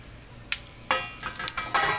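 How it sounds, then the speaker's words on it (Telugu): Tamarind fries in a hot pan, soft sizzling broken by a few short scraping stirs, fairly faint and close, with no talk. "బాండి కాగినాక ఎన్ని కలిపి వేయించుకోవాలి"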